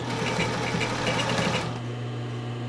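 Sewing machine stitching a sports bra, a loud, close, steady rapid whirr of needle strokes that stops abruptly partway through, leaving a low hum.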